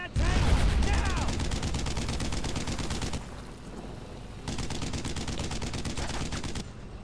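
Sustained bursts of machine gun fire in a World War II shooter game, laying suppressing fire on an enemy tank; loud rapid rattling for about three seconds, a short lull, then another long burst, with shouted voices over the start.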